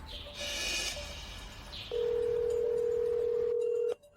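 Telephone call in progress, a steady electronic tone held for about two seconds after a brief muffled rustle, then cut off abruptly.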